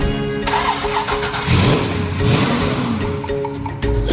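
A restored American muscle car engine cranks and catches, then runs with a rough, throaty rumble, loud and close, with a few revs rising and falling.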